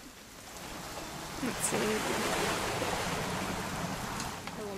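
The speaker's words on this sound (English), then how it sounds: "It's gonna rain the whole weekend, isn't it?" Rain falls in the game What Remains of Edith Finch during an outdoor hunting trip, a broad steady wash that swells and then holds, with a brief voice speaking under it.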